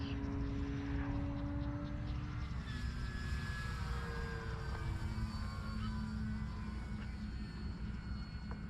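An Arrows RC Tecnam 2010 scale trainer model airplane flies overhead, its electric motor giving a faint, steady buzzing drone that shifts pitch as it passes through aerobatic manoeuvres, with no voices.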